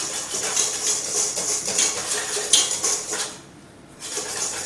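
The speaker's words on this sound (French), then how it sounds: "Versez les 200 g de farine dans un saladier avec le demi-sachet de levure et mélangez" Flour and baking powder are stirred together in a mixing bowl for white chocolate muffins, with close clinking and scraping of a utensil against the bowl, then a brief pause before the clatter resumes.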